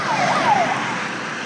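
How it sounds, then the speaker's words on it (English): A siren wails from a Tesco delivery van, its rising and falling tone sweeping briefly over steady loud road noise before fading into the engine rumble. "Got a siren on his Tesco's van."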